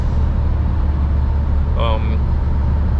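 A truck drives into a tunnel on the road home from Davos, Switzerland. A steady, low engine rumble fills the cab, with a brief voice near the middle.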